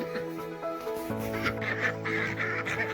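Farm ducks quacking, with a steady chorus of nasal, overlapping calls close by and fairly loud, with no talk over them.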